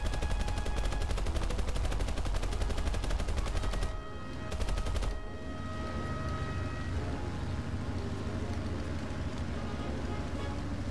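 Rapid machine gun fire in the combat flight game War Thunder, a dense continuous stream of loud shots that breaks off briefly midway, then gives way to a steady engine drone.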